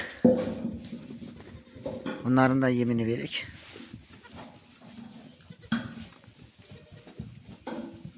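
Goats bleat nearby in a pen at kidding time, one long wavering bleat standing out in the middle, while someone talks quietly on and off around it.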